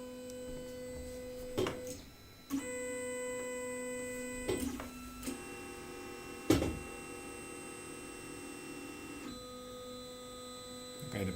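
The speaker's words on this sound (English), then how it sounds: "the printer is doing something in the back there" A 3D printer runs in the background of a workroom where an LED lamp is being designed, giving a steady tonal hum with sharp clicks and shifts in pitch as its motors change moves, alone without talk.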